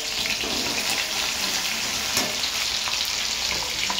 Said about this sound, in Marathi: आपण टाकणार आहे मिरची, लसूण आणि कढीपत्ता, हे 3 वस्तू टाकलेल्या आहेत